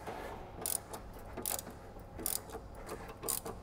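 Wrench working a factory-Loctited sway bar bolt loose on a Ford Mustang S550, four sharp ratcheting clicks at an uneven pace over a low steady background, close by with no talk.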